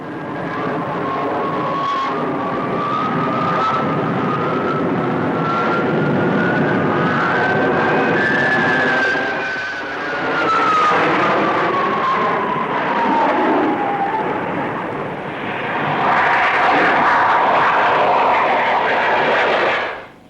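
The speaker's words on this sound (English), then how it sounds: "Let's follow the fighter bombers in a formation roll, flying as if linked by invisible threads, while earth and sky revolve around." Royal Navy fighter bombers flying in formation at the Farnborough air show in the 1950s, a loud sustained jet roar whose pitch rises and then falls as they pass, swelling again toward the end.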